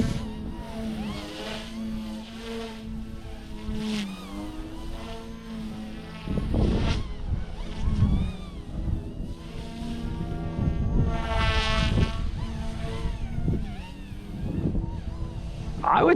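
A Blade Infusion 120 micro RC helicopter flies, its steady high-pitched rotor and motor whine shifting in pitch as it maneuvers nearby, with a buzzing drone throughout.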